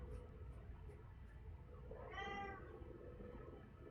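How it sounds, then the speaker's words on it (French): A domestic cat gives one drawn-out, wavering meow partway through, set against a low steady background hum; no one speaks. "Oui, c'est Muta, le chat. Muta, il chante"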